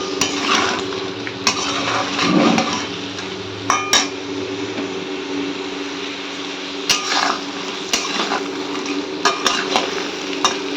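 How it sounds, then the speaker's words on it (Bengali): Prawns fry lightly in oil with salt and turmeric, a steady close sizzle punctuated by sharp clinks and scrapes of a utensil against the pan. "হবে একটু চিংড়ি মাছের মালাইকারি, একটু লবণ আর হলুদ দিয়ে জাস্ট একটুখানি হালকা ভেজে নিচ্ছি"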